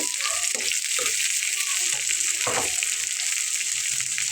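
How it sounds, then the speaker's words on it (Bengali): Spring onion bhorta frying in a pan after tempering, a continuous loud sizzle with several scraping stir strokes running through it. "ভর্তাটাকে ফোড়ন দিয়ে একটু বেশ ভালো করে নেড়ে চেড়ে কষিয়ে নেব"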